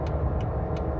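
A car rolls along while being towed behind a truck, giving a steady low road and engine rumble with faint regular high ticks.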